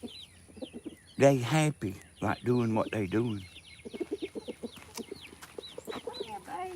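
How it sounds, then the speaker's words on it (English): Backyard chickens near a house cluck in a steady scatter of short calls, close and moderately loud, while someone talks over them throughout. "the chickens up there at the house"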